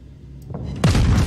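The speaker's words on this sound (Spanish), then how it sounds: "Fuerzas enemigas y vaya cañonazos" Enemy cannon fire in a video game: a single deep, heavy boom bursts in after a quiet lead-in, loud and close, with a rumbling tail.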